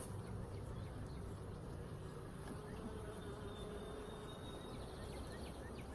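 Honeybees buzz around a hive frame in a steady, faint, continuous hum, with no other sounds standing out.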